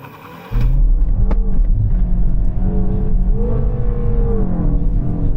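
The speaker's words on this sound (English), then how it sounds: "Left foot on the brake, floor the throttle." A MINI car launches hard from a launch-control start in Sport Plus mode, a loud engine roar surging in and rising as it accelerates, with a sharp clunk early on.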